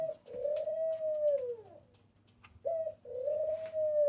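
Pet birds in a large new aviary coo softly and clearly, with two long drawn-out coos separated by a short quiet gap.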